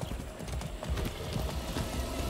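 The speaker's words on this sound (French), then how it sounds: "mon chemin était très rapide et c'est super le cheval" Horse hooves clip-clopping in Far Cry 6, a steady run of close hoofbeats over faint rumbling background, no speech.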